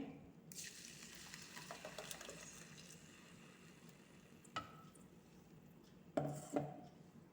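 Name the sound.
curry leaf and coriander paste frying in hot oil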